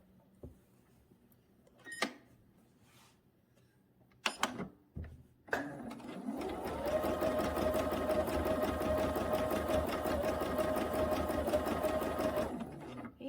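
A sewing machine free-motion quilting a quilt runs at a steady fast whirring stitch for several seconds, preceded by a few clicks and handling noises, then stops abruptly.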